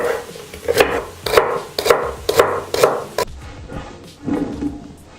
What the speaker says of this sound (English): I'm going to chop up a couple of sticks of celery.